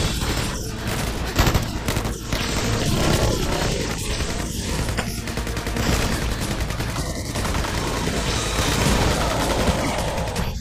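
Heavy gunfire in the film Crazy Spider rattles in dense, rapid bursts that stay loud and close for the whole stretch, mixed with crashing impacts.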